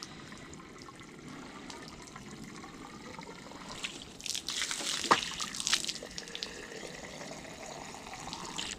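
Water spurts and trickles while an RV water tank is being filled, a steady close rush with a louder surging burst around the middle before settling back to a constant flow.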